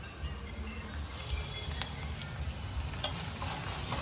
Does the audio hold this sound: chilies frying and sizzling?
yes